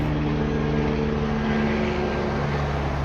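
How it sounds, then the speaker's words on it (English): A helicopter flies overhead, its steady, droning engine roaring continuously, loud and close, with a low rhythmic rotor hum throughout. "It's a helicopter"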